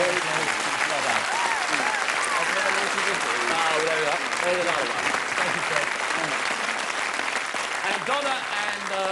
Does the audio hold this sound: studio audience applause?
yes